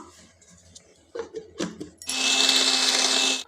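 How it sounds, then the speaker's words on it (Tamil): Mixer grinder jar whirring loudly as it powders rock sugar (kalkandu) for pongal, a steady high motor roar starting abruptly after a few soft knocks and clatters. "நம்ம எடுத்துருக்கிற கல்கண்டை ஒரு மிக்சி ஜாரில் சேர்த்து பொடி பண்ணிட்டு வந்துடலாம்"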